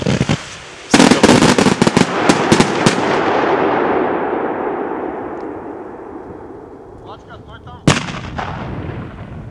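Rapid volleys of sharp shots from a 50-shot, 1.2-inch V-shape green firework cake with thunder crack and burst loudly, then fade into a crackling tail before one last bang sounds near the end.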